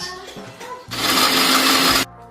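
A kitchen mixer grinder whirs loudly for about a second grinding tomatoes and cashews into a paste, starting and stopping abruptly after quiet clatter, with no talk.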